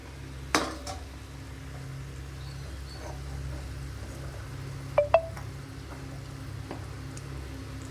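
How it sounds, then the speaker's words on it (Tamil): A couple of sharp metallic clanks ring out against a pot as eggplant pieces are added, close up, over a quiet low simmering background. "இப்போ இந்த கத்திரிக்காயை வந்து இதில் போட்டுடுறேன்."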